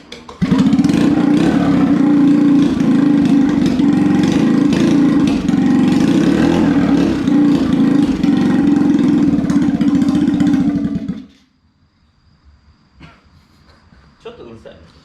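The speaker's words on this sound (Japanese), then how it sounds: "一発エンジンかけてみますか。" A Honda Super Cub engine with no silencer fitted starts with a quick burst and settles into a loud, raw, rapid idle close by for about eleven seconds, then cuts off, leaving quiet workshop sounds.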